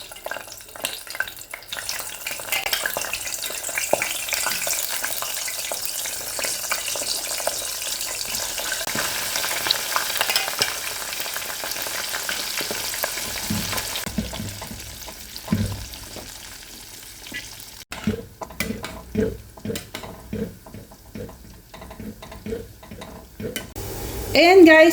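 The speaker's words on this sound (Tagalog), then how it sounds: "Ito yung ating oil. So, mag-start na tayo. Lagay na natin siya pa isa-isa." Salmon rolls frying in hot oil, a steady close sizzle and crackle that stays busy throughout, with occasional stirring and faint kitchen clatter, no talking.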